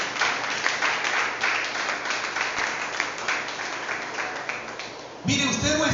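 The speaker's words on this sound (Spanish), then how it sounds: "Denle un fuerte aplauso a Dios." A church congregation applauds during a sermon, producing a sustained bed of many hands clapping that holds steady throughout, with a voice starting to speak over it near the end.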